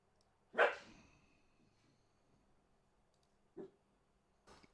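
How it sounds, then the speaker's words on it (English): A dog named Maxie gives one sharp bark, then two shorter, fainter barks a few seconds apart in an otherwise quiet room. "Why are you barking?"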